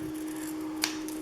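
A single short snip of decorative edge scissors cutting paper for scrapbooking, close and brief over a quiet steady hum.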